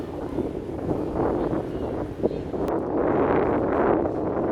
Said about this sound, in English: wind's picking up, it's getting a bit windy